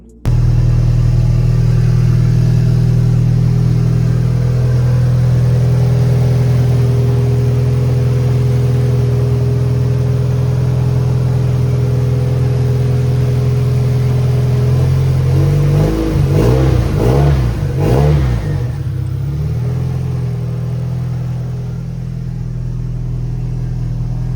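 A Nissan Silvia S14 engine cranks for a long, steady stretch, then catches and revs in several rising and falling bursts before settling into a loud, close idle.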